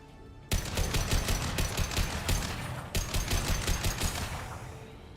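Gunfire in the video game Mass Effect 2: two rapid automatic bursts, each a fast string of sharp close shots, separated by a brief pause, loud with no voices over them.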